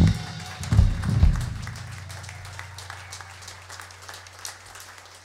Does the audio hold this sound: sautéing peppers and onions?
no